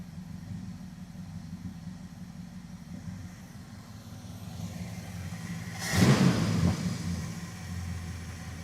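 Dodge Charger crew cab engine idling after an idle speed screw adjustment, a steady low rumble that briefly swells with a louder rev or whoosh before settling back, heard up close with no talking.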